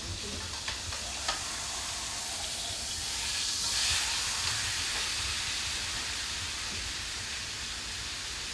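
Meat proteins searing and browning in a hot pan give a steady, moderate sizzle and hiss, with a faint swell near the middle.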